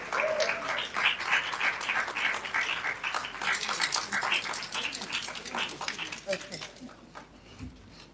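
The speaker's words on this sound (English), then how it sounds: "Please, let's welcome her with a round of applause." A crowd at a national forum on women in government and media claps in a dense, lively round of applause that gradually thins out toward the end, with some voices mixed in.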